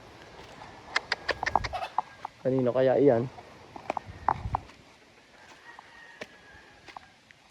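A chicken clucks in short bursts and gives one longer, louder squawking call near a rural riverside spot, with a person speaking briefly nearby.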